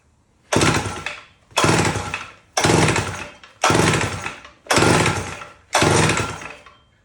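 A cleaned-carburetor chainsaw is pulled six times in a steady rhythm, each loud burst of engine noise cutting off after about a second with short silences between, close up and with no voices.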